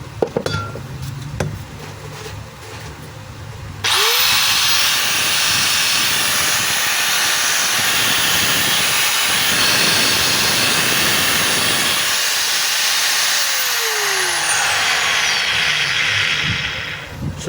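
A DeWalt D28111 4-inch angle grinder on a test run after a gearbox and pinion replacement starts abruptly into a loud, steady high-pitched whir, runs for several seconds, then winds down with a falling whine.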